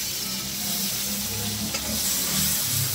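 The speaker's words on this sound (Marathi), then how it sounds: "मिरच्या छान तडतडू द्यायच्या आणि त्यामध्ये लगेच हे अर्धा चिरलेले टोमॅटो घालून टाकायचे" Green chillies and halved tomatoes frying in hot oil tempering for Maharashtrian phodnicha varan, a steady close sizzle and crackle with faint stirring, no voices.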